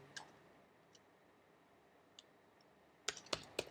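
Faint isolated key taps, then a quick close burst of computer keyboard typing while entering a search.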